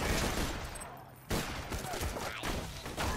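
Three-round burst sniper rifle fire in Borderlands 2 crackles in sharp, loud bursts over a busy game soundscape, with a brief lull before the shooting resumes.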